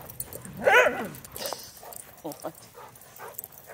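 Pet dogs whimpering and giving a sharp yip while being petted, one loud close high yelp followed by softer scattered whines, with a person briefly speaking among them.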